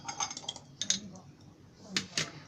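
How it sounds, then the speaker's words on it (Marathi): Soaked, seeded dates dropped and handled in a steel mixer jar for a dates and jaggery chutney, producing several light metallic clinks and taps, close by, over quiet background noise. "ते मी मिक्सरच्या भांड्यामध्ये घेते."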